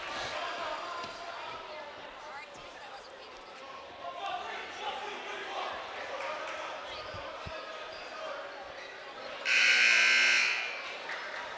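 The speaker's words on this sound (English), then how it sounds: "Buzzer sounds and 2:46 left to play." A loud electronic buzzer blares for about a second during a boys' varsity high school basketball game, cutting through steady crowd noise and an announcer's play-by-play commentary.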